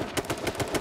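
Rapid gunshots in the H1Z1 battle royale video game ring out in a fast, steady automatic rhythm of about six evenly spaced cracks, dense and moderately loud with no voice.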